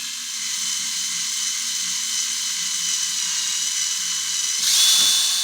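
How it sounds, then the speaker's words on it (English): A drill whines steadily while boring a 3mm pilot hole, the first step toward 4mm screw clearance holes. The high-pitched tone holds even for several seconds, then swells briefly near the end, with no voices. "I'm starting off with a 3mm pilot hole"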